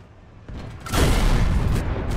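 A German 128 mm and 105 mm tank cannon fires in War Thunder, a single heavy boom that swells and holds as a loud, broad rumble for over a second.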